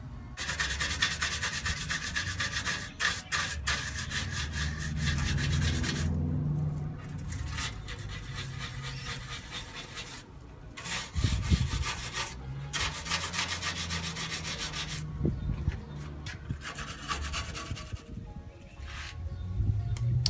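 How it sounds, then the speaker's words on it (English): Rust is sanded back on a metal panel with steady, close-up abrasive rubbing strokes that run in long rhythmic bursts, with brief pauses between passes. "now that I've sanded it all back"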